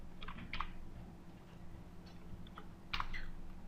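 Soft computer keyboard keystrokes while PHP code is typed, a few sparse clusters of clicks over a low steady hum, quiet and close.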